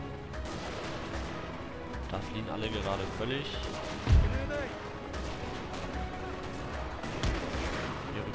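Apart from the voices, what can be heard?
cannons firing on infantry in Napoleon: Total War video game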